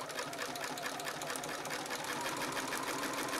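A sewing machine doing free machine embroidery stitches a hydrangea flower onto fabric, its needle running in a fast, steady, even chatter, close and continuous throughout.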